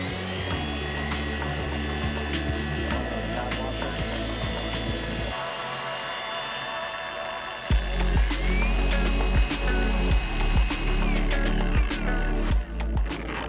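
A polishing pad spins inside a rinseless pad washer with a loud, steady mechanical whir. The sound drops out briefly partway through, then comes back stronger with a rougher, uneven rattle.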